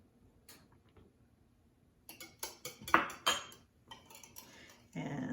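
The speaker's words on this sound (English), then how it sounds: "let's stir that real good" An omelet muffin batter of eggs and baking powder is stirred briskly in a bowl, with clinking and scraping of a utensil against the sides that starts quiet, then grows louder and busier.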